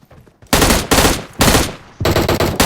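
Bursts of M16 rifle fire from the mobile game PUBG Mobile crack out loud and close, several rapid automatic volleys separated by short pauses.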